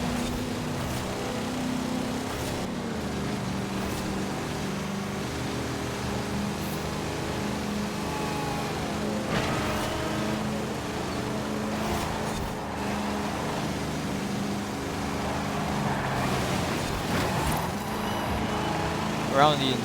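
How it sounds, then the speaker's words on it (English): Big, heavy diesel engine vehicle slowly gathering speed, a steady low engine drone rising gradually under continuous talking. "it does definitely take it quite a while to get up to speed just because it's such a big, heavy diesel engine"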